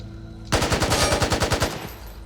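A burst of full-auto rifle fire from the Back 4 Blood shooter game. Roughly a dozen rapid, loud, evenly spaced shots start abruptly and ring out alone, then stop.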